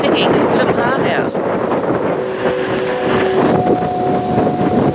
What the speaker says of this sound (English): We've come to the singing ship and it's singing its little heart out.